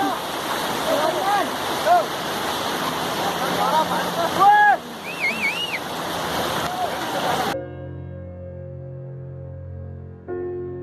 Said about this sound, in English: as the snow melts at the adjacent mountains, the water comes down in great force, bringing stones and pebbles along with it